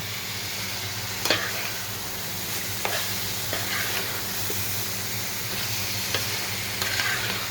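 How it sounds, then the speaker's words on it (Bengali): Fried cauliflower goes into a pan of spices, sizzling and hissing steadily while a spoon stirs and scrapes it, with a few louder clinks standing out over the constant frying. "তো ভাজা ফুলকপিগুলো এখন দিয়ে দিলাম।"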